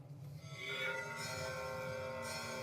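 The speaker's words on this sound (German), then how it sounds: "Wir hören die Glocken läuten der Grabeskirche." Church bells of the Church of the Holy Sepulchre in Jerusalem ring during the Orthodox Holy Fire ceremony, a steady sustained peal with layered ringing tones, fairly faint and distant under a crowded hall ambience.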